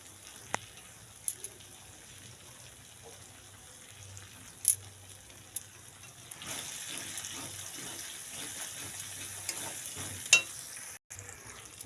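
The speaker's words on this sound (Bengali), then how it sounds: "মশলাটা কষা হচ্ছে" Spice paste with turmeric powder frying in a pan for a chickpea curry, giving a steady soft sizzle with occasional stirring clicks and scrapes that grows denser and louder partway through, with no talking.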